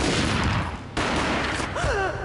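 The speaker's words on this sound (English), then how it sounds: "A gunshot boomed and she fell down in slow motion." Gunfire in the video game Max Payne 2 booms as a loud, dense burst with a brief drop in the middle and a rising whine just before the end.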